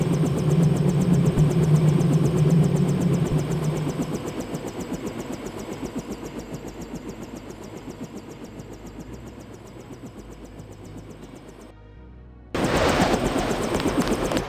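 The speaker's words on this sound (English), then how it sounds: "The snipers heard your helicopter and took off." Helicopter engine from the Deus Ex video game, a steady droning hum that fades somewhat, cuts out briefly, then returns loudly near the end.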